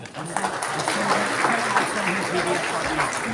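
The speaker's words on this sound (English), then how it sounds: "Big round of applause for you." A crowd at a company network gathering breaks into applause, a dense patter of clapping running under a speaking voice throughout.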